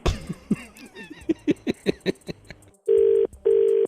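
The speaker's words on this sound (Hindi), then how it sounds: "आप भाया को फोन कर लो" A phone call is placed to book a gas cylinder: a quick run of dialing tones and beeps, then two long, loud ringback tones separated by a short gap.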